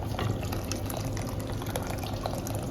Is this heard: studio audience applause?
no